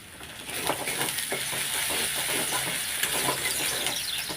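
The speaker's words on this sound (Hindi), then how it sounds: "अदा रसुण आमर भल से भाजी हो जाइए।" Ginger and garlic frying in a pan, a continuous bright sizzle and hiss with soft stirring scrapes, close up and fairly quiet, with no talking.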